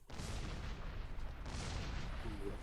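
Cannon blasts in a block-building PvP game on the Toybox map: two broadband booming bursts, near and loud, with dense noisy rumble between them and a faint tonal chirp near the end.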